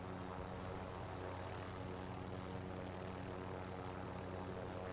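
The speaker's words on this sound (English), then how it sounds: "I won't destroy the chopper." A helicopter in the video game Warzone makes a constant, steady rotor and engine drone throughout, moderately loud and with no talking.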